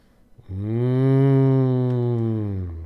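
A person's voice imitates a cow mooing, one long, loud, drawn-out low moo held steadily for over two seconds, close and alone.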